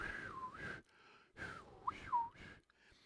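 Two breathy, airy whistling attempts, each a wavering pitch sliding down and up through a rush of breath, separated by a brief pause.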